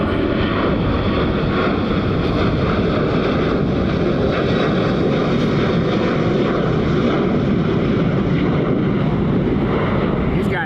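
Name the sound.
airplane taking off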